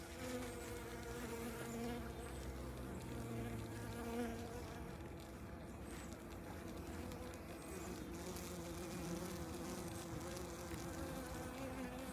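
Honeybees swarm and buzz around a hive, a dense, steady drone of many wings close by that holds without a break, with no talk over it.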